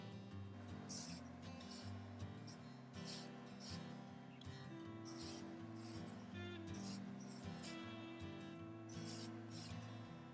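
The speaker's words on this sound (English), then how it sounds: "Now, I'm going to spray some hairspray on the front pieces." Repeated short hissing bursts of aerosol hairspray, several quick blasts in a row onto hair, close by, over a faint background hum.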